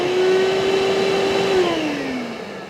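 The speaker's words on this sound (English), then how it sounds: "Once that's turned on, I can adjust the suction up and down with the plus and minus button." A CTC MIDI suction machine runs with a loud, close motor whine that holds steady, then drops in pitch as the suction is turned down.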